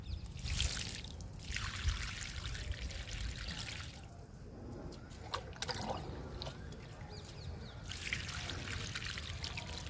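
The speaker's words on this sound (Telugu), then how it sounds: "ఇంకా వాటర్ ఇచ్చేద్దాము." Water is poured from a mug into a freshly repotted hibiscus plant pot, a soft splashing trickle that runs in several pours with brief pauses and faint handling noises between them.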